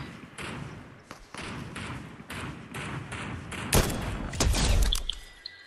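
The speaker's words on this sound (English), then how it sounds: "See, there's some shooting over here." Gunfire in Fortnite trios, a run of rapid thudding shots in bursts, close and moderately loud, heavier blasts near the end, with no talk over it.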